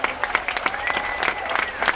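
A crowd at a military appreciation gathering aboard the Carnival Liberty cruise ship applauds standing Operation Iraqi Freedom veterans, steady clapping with sharp individual claps and a light murmur of voices.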